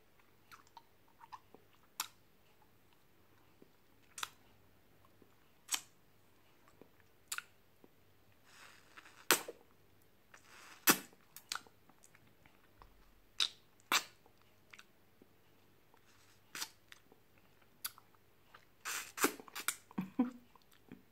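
Someone eats a Twister ice lolly close up, producing sharp, sporadic crunchy bites and wet chewing clicks spaced a second or two apart against near silence, with a denser cluster near the end.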